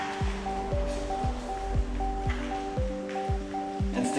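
A car wash mitt is plunged and rinsed in a bucket of water, giving repeated rhythmic sloshing squishes about twice a second, close and steady.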